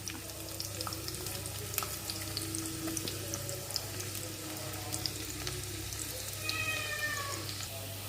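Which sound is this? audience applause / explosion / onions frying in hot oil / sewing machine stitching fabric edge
onions frying in hot oil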